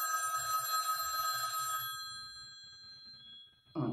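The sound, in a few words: telephone ringing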